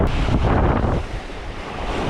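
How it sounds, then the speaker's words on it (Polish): Large waves and strong wind on the water at a spinning fishing competition near Nagele, a loud continuous roar of surf and wind buffeting the microphone with no voices. "fale są takie duże"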